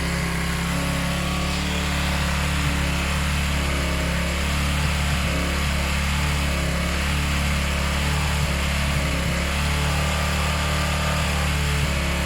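A Zontes motorcycle engine idles steadily for several seconds while warming up, a constant low rumble with a fast mechanical chug, close by and without voices.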